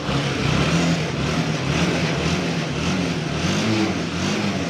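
A motorcycle engine runs steadily after a carburetor fix, a continuous, fairly loud mechanical drone with slight surges, close by and with no talk over it.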